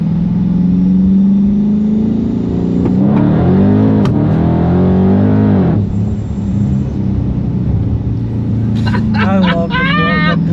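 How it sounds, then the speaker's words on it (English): A Vortech-supercharged Dodge Scat Pack accelerates loudly from inside the cabin with a rising engine drone, then surges again, and a brief whooshing release follows. A person talks and exclaims over the engine noise throughout. "I love the blow off."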